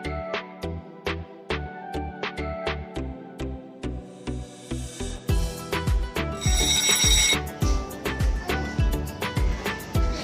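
Mobile phone ringtone playing a repeated melodic electronic chime pattern, loud and close, with bursts of brighter ringing tones in the middle, no talk.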